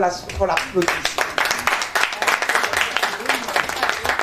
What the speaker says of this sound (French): Et il faut qu'on l'applaudisse.